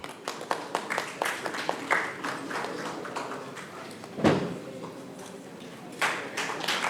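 Scattered applause at a book launch event, individual claps standing out in a sparse, uneven rhythm from a moderately near audience, with one louder burst midway.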